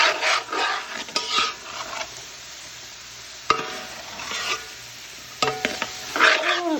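A spoon stirs seafood gumbo in a hot pot over high heat, with several bursts of scraping and swishing against the pot broken by quieter gaps, close and fairly loud, under a steady faint sizzle.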